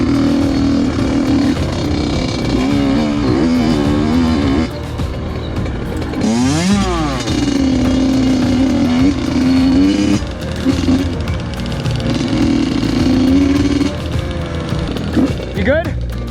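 A dirt bike engine idles and revs on a motocross track, steady and fairly close with a pitch sweep as the throttle opens midway, while people talk over it.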